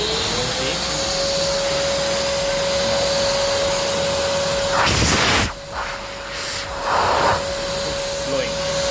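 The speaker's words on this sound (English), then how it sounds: "Now I will turn on the vacuum cleaner from this switch." An AmazonBasics wet and dry vacuum cleaner running with a loud, steady whooshing roar and a constant whine, interrupted midway by a short burst of rushing air and a brief dip, while someone speaks over it.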